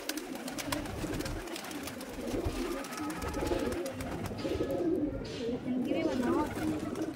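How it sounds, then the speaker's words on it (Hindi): Pigeons coo softly and repeatedly amid a busy, noisy background, with people talking nearby throughout. "कुम्हारों में का जो अजय है उसके कबूतर है ये।"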